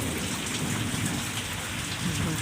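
Heavy rain falls during a thunderstorm in Keonjhar, Odisha, as a dense, continuous downpour hissing on surfaces with a low rumble of thunder beneath it and no talking.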